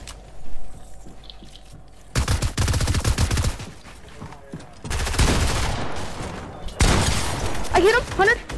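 Fortnite gunfire during a duos cup match: loud, dense bursts of rapid automatic fire and sharp shots come in several clusters, layered over constant game sound.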